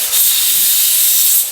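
Steam hisses steadily from a kitchen pressure cooker whistle, holding the drumstick (shevga) pods as they cook, a loud continuous rush that swells in and tapers off at the end.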